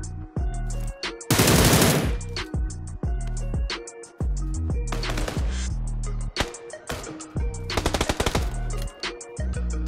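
Automatic and single gunfire in PUBG, loud close bursts of rapid shots broken by pauses, with sharp individual cracks and a dense volley in the middle.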